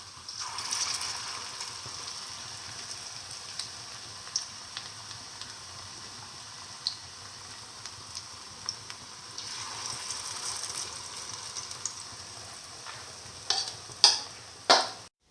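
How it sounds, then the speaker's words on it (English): Tomato, fenugreek leaf and chickpea flour fritters frying in hot oil, a faint continuous sizzle with occasional stirring scrapes and a few sharper clinks near the end. "Put in the next batch and fry"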